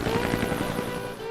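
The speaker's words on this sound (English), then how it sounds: "Did you order a helicopter?" A helicopter over a rural property where old folk art is being sought, its rotor chop pulsing steadily and fairly loud, close overhead without talk.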